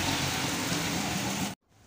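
Heavy monsoon rain pours down steadily in a dense, loud hiss as water begins to collect, then cuts off abruptly near the end to near silence.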